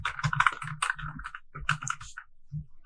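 Rapid clicking keystrokes on a computer keyboard as text is typed into a PowerPoint text box, close and clear in quick bursts with short pauses, no speech.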